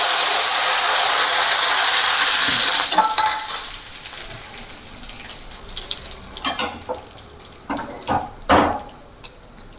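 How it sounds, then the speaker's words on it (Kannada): Curry leaves dropped into hot oil for nippittu give a loud, bright sizzle that fades after about three seconds, followed by quieter clinks and scrapes of a spoon against the pan. "ಇವಾಗ ಕರಿಬೇವಿನ ಸೊಪ್ಪು ಎಣ್ಣೆನಲ್ಲಿ ಹಾಕ್ಬಿಟ್ಟು"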